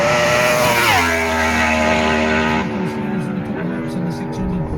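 Racing motorcycles at the Isle of Man TT, a loud engine note roaring close by and then dropping in pitch as a bike speeds past, with the rising and falling tones of more machines following behind.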